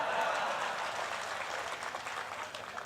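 Audience clapping at a Hindi humorous poetry gathering (kavi sammelan) in Sarsi, a steady broadband patter of many hands that holds fairly even for a few seconds before easing slightly toward the end.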